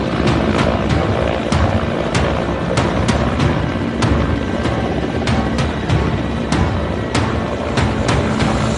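Air Force rescue helicopter over the Tawi river in Jammu, a loud continuous rotor roar with repeated sharp thumping beats, no voices.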